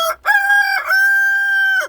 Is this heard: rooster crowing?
yes